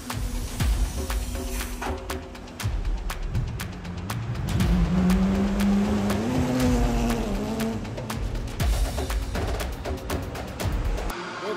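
Race car engines roar continuously at a racetrack during a practice session, with rising and falling revs and cars passing loudly, close and dominant throughout, with faint voices underneath.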